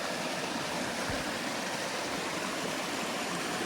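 A stream of water at a water source along the Appalachian Trail gives a steady, broadband rushing flow, close and constant with no voices.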